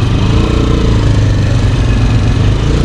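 An Italika DM motorcycle with a competition CDI held at high revs on a dyno, a loud, steady, buzzing engine drone that stays constant throughout with no talk.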